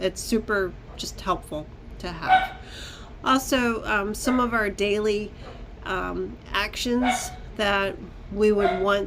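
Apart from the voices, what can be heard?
No distinct noise like a dog, phone or traffic.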